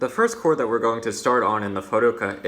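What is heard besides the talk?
None of the usual background noises is heard.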